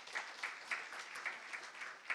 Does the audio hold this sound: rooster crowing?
no